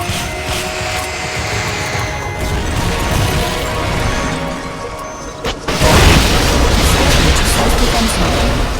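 A rocket launcher fires in Metal Gear Solid Peace Walker, a sharp loud blast partway through that breaks into a sustained roaring rush, set over continuous rumbling game noise and mechanical clatter.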